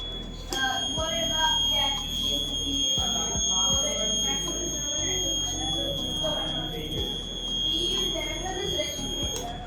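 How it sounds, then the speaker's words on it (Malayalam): A shrill electronic earthquake warning alarm buzzer on a school science fair working model sounds continuously at a fixed high pitch while a person speaks over it. "ഭൂകമ്പം ഉണ്ടാകുന്ന സമയങ്ങളിൽ കറക്റ്റായിട്ട് ഒരു അലാറം നൽകിക്കൊണ്ട്"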